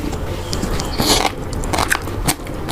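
Crunchy food is bitten and chewed close to the microphone, giving several sharp crackling crunches in an irregular rhythm with no talk.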